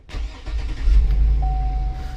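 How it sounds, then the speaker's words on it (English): A car engine cranks and catches after a Sens-O-Lock FR9000 breathalyzer interlock test is passed, settling into a steady close idle with a faint tone running alongside. "Now you can start the car."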